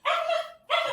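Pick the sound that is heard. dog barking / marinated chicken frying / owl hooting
dog barking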